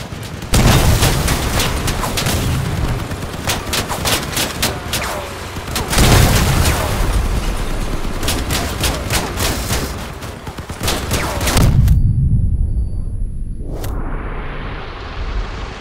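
Dense bursts of gunfire in the video game Crossout with heavy booms and rapid shot volleys, loud and continuous, ending in a sudden cut to near silence and a rising whoosh.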